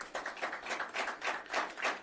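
Audience clapping at a talk, a steady patter of many hands that swells and dips in waves over about two seconds, moderately loud with no talk over it.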